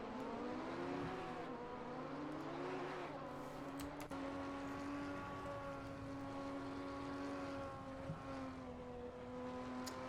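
Racing video game at the Sachsenring with several race cars howling past, engine notes rising and shifting pitch as they pass, one steady drone holding through the whole stretch at constant loudness.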